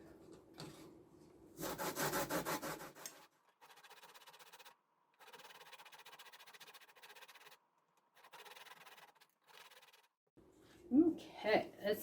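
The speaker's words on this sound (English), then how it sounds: "you're just going up and down on the fine part of the cheese grate" Short bouts of scraping as food is rubbed up and down the fine side of a cheese grater while making rock cakes, a few strokes in each bout with pauses between, fairly quiet.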